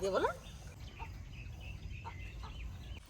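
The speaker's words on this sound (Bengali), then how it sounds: "ডাকতেছে মুরগি" A Patnai chicken gives a brief, loud clucking call right at the start, followed by fainter scattered sounds and a low background murmur.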